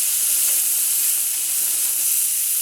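Pork souvlaki skewers sizzle on a barbecue grill with a steady, bright hiss of fat and juices, close and continuous, with no voices.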